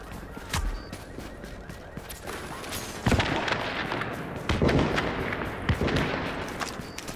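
Shotgun blasts in The Division, several sharp heavy shots spaced a second or two apart over continuous game ambience, moderately loud.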